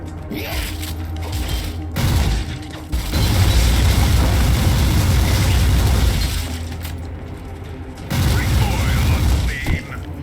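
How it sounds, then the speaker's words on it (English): A weapon reload in the Warhammer 40K Inquisitor Martyr video game, loud mechanical clicks and ratcheting metal clatter mixed with booming impacts and shattering effects, with a voice talking over part of it. "You hit R and you reload."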